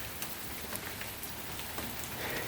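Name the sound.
rain falling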